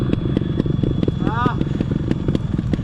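A trials motorcycle idles close by with a steady, fast-pulsing putter that holds an even level throughout, while someone talks over it.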